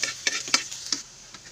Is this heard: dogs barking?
no